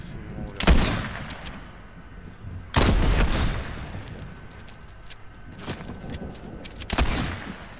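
Gunfire from a Fortnite match crackles in sharp bursts, with loud shots near the start and around the third second, followed by fainter, scattered reports and another crack near the end.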